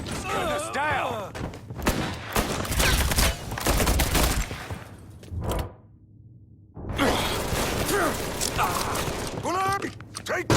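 Gunfire from the video game Mafia 3: Definitive Edition crackles in bursts of rapid shots and impacts, mixed with shouting voices over most of the stretch, broken by a brief lull near the middle before the firefight resumes.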